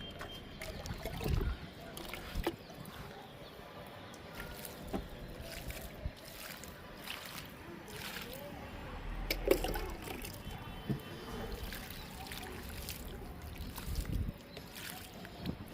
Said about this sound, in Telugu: ఇప్పుడు వాటర్ ఇచ్చేద్దాం కదా.